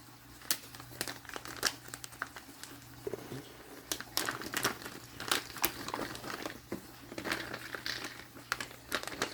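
Plastic Grove bag, an ounce-size storage bag, crinkles and crackles in repeated bursts as it is handled up close, with no talking.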